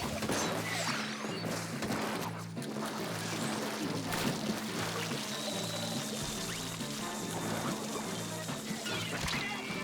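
In Splatoon 3, a character knocked into the water makes a splashing, pouring rush over steady game music, with a few sharp impacts mixed in.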